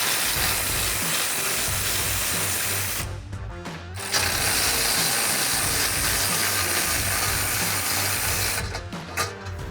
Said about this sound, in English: I'm going to use a 16mm socket, my electric ratchet, to remove those